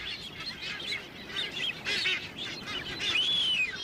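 A large colony of white or masked boobies calls from a seabird plateau on an island. Overlapping honks and harsh calls come from several birds at moderate distance over a constant background of the colony.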